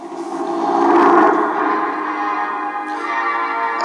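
A Sound of Music recording plays from a 1966 Aiwa TP-721 reel-to-reel dictation machine, giving a steady, slightly muffled stretch of orchestral music at moderate loudness.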